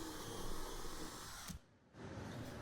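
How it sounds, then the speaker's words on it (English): A power drill boring starter holes in a wood panel for a wall-hanging kitchen bag holder, a close continuous whine that cuts out briefly and then starts again. "After drilling some starter holes"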